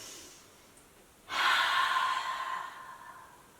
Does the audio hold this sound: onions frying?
no